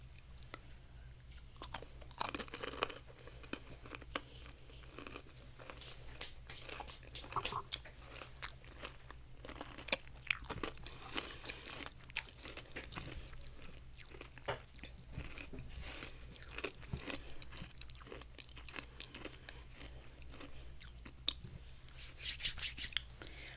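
Crunchy crystal candy and other sweets eaten close to the microphone, with repeated crisp bites and chewing crunches throughout, quiet and intimate with no talking.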